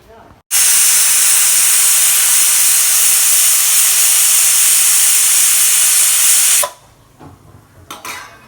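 A loud, steady hiss of steam jets out of a pressure cooker cooking jackfruit for about six seconds, then cuts off abruptly, leaving faint clatter.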